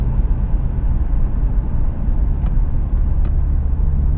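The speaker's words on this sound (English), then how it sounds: "the car is still not too noisy when you close the windows" Inside a 1991 Mercedes 124 200CE with a sport rear exhaust, windows closed, driving through city streets: a steady low road and engine rumble fills the cabin, with a couple of faint brief clicks over it.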